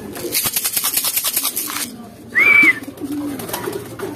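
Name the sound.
pigeons cooing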